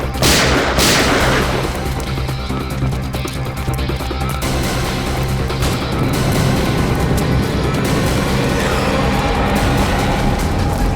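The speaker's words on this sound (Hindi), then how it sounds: "ऊपर से सीआईडी के ऊपर फायरिंग।" A shootout in a CID crime drama, with dense, loud bursts of gunfire cracking over a continuous wash of noise, sharpest in the opening seconds and persisting throughout.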